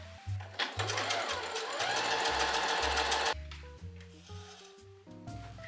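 Sewing machine running in bursts to stitch closed the small gap in an elastic hem on a puffy cloud dress, a steady whirring stretch in the middle framed by short stop-start runs, close and alone.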